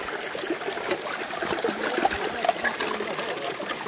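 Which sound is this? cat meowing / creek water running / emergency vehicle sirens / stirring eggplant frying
creek water running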